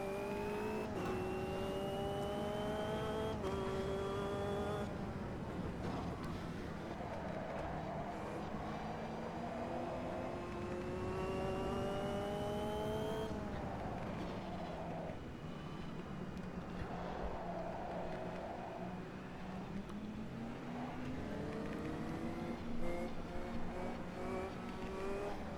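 Several 300HP Caterham race cars in Automobilista 2 howl through a tough section of track, their engine notes repeatedly rising and falling as throttle is blipped, loud and continuous with no talking.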